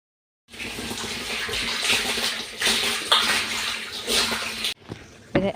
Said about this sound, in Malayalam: ഒന്ന് മോട്ടർ ഓണാക്കി കുറച്ച് വെള്ളം ഇതിനകത്തേക്ക് ഒഴിച്ച്